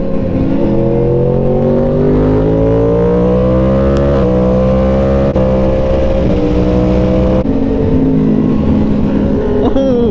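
A sport motorcycle engine (an M1000RR, GSX-R1000 or MT-10) roars loudly and close during a ride, its pitch climbing through each gear with brief drops at shifts, under constant wind rush.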